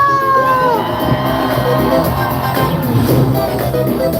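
Large crowd cheering, whooping and shouting at the public opening of Super Nintendo World, a loud sustained roar of many voices with scattered yells throughout.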